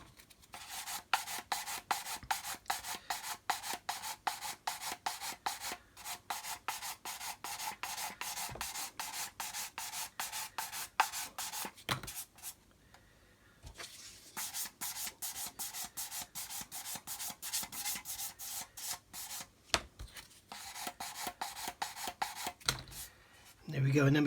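Repeated strokes of Matador 400 grit sandpaper rasping over primed plastic on a model kit, a steady close scratchy rhythm with two brief pauses, no talk.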